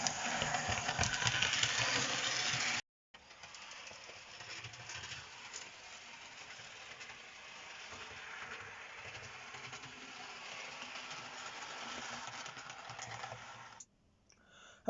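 A Hornby Class 37 model locomotive runs in with a steady whirring, rattling motor hum, louder at first, broken by two brief silent cuts, with no voices.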